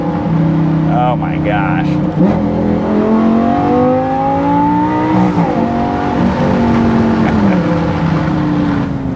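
A 2014 Lamborghini Gallardo LP550-2 engine revs loudly and continuously, its pitch climbing and dropping through gear changes, with a brief exclamation from a voice partway through.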